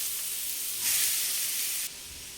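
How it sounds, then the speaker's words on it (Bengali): Finely chopped onions with garlic sizzle in oil and butter in a pan for shakshuka, a loud bright hiss that swells briefly and then settles lower, with no talking. "পেঁয়াজটাকে একটু হালকা করে আগে ভেজে নেব"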